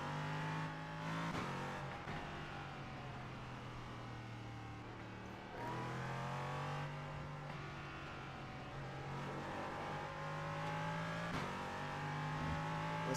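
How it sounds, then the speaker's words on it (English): A race car engine in a sim racing game: a steady drone rising and falling through revs and gear changes, moderately loud with a brief dip midway. "Hopefully you should now hear the car."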